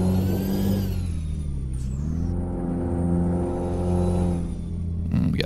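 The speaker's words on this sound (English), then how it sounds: "rev matching and downshifting to maintain speed through here" A heavy truck engine in Euro Truck Simulator 2 revs and drops through gear changes, a steady close rumble with rising and falling pitch and no talk.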